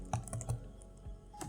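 Code typed on a computer keyboard: a quick run of close, light key clicks with a short pause and a final tap.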